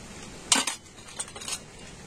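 Cut potato pieces and a little ginger dropped into a steel mixer-grinder jar in a home kitchen, giving a brief metallic clatter of clinks and knocks followed by a few lighter taps, close and fairly quiet.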